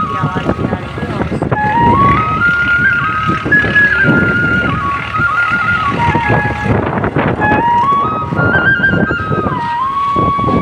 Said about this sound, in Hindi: देखिए दोस्तों, काफ़ी तेज़ हवा चल रही है। आपको हवा की आवाज़ भी आ रही है